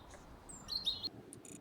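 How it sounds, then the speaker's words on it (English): A bird sings a short, thin phrase of high whistled notes and chirps, faint and brief against a quiet background. "If you said it's a bird singing, then you are right."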